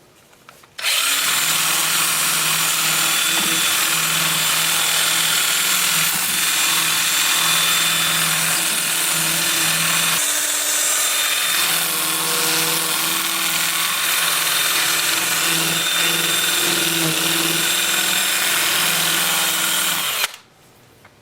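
Sustained power-sander whine as a wood-turned root ball is sanded through the grits up to 400 with the lathe still, loud and steady for about twenty seconds with a short dip midway, starting and stopping abruptly.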